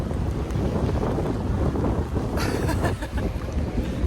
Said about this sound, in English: We're on the boat.